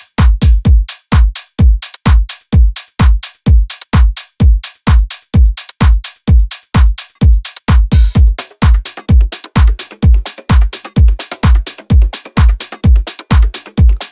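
A tech house drum pattern with punchy four-on-the-floor kicks, a clap and hi-hats, loud and close; busier hats thicken the groove in the second half, with no voices.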